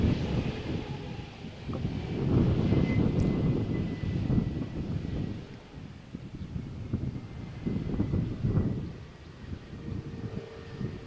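EasyJet passenger jet on the Malaga to Amsterdam flight at Malaga Airport, Costa del Sol, runway 13, on a stormy morning, a broad rushing engine roar that swells and fades twice amid gusting wind noise.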